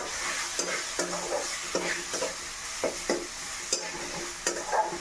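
Ginger-garlic paste with turmeric and chili powder sautéing in a pan, a steady sizzle broken by repeated sharp scrapes of a spatula stirring the mixture, heard up close with no talk.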